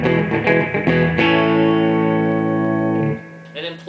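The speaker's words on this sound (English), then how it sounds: "played through Real Echo Pedal by Danelectro" A Danelectro Mod Six electric guitar played through a Danelectro Real Echo pedal: a few quick picked notes, then a chord left to ring with echo and reverb for about two seconds before it cuts off, loud and with no talking.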